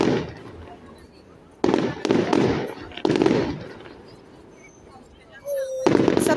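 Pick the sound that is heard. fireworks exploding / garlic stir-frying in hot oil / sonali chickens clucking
fireworks exploding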